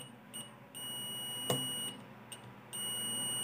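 A multimeter gives steady continuity beeps while probing a mosquito racket switch, a high electronic tone starting and stopping in several stretches, with a sharp click in between.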